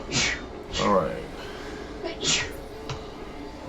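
A single sneeze bursts out near the start, followed by breathy sounds and a second sharp nasal burst, close to the microphone in a quiet room.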